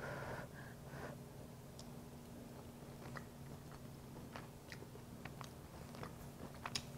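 Close, faint bites and moist chewing on a forkful of hot low-carb sloppy joe stuffed pepper filling, a few soft crunchy clicks spread over steady quiet background hum, with no talk.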